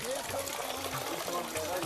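Warm spring water flows out from under a mountain in a steady, close gushing rush that fills the whole moment without pause.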